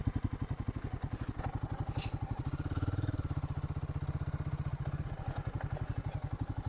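A GRR450 motorcycle engine runs steadily and close by for the whole stretch, a dense pulsing thrum with faint clatter on top and no talk.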